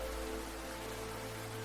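Steady rain falling as an audio drama sound effect, a continuous even hiss with a low hum beneath, moderately quiet and unbroken, with no voices.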